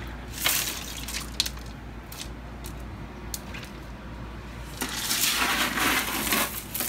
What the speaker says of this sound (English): it looks like I'm going to have to add a little bit more water in here